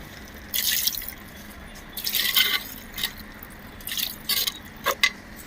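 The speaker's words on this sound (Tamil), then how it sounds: "தேவையான அளவு தண்ணி ஊற்றி சிக்கனை வந்து வேக வச்சுக்கலாம்" Water poured into a pot of sautéed chicken, heard as several short splashing, dripping bursts with pauses between them, fairly faint, with no talking.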